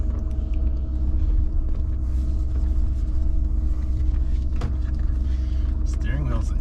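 A Land Rover Discovery 2 on its first drive, its engine giving a steady loud rumble throughout, with brief creaks and knocks from the cabin.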